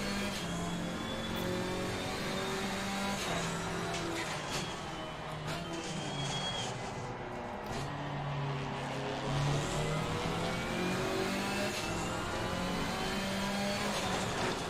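GT4 race car in Assetto Corsa Competizione at the Hungaroring, engine droning steadily in a low gear through slow corners, with rising and falling harmonic pitch as it revs, a BMW running just ahead, loud and continuous throughout.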